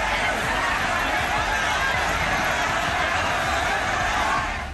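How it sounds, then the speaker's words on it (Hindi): A large crowd gathered in Bandra, Mumbai makes a steady, dense roar of many voices, loud and unbroken from start to finish. "इस पहली तस्वीर में आप भीड़ के शोर को सुन सकते हैं।"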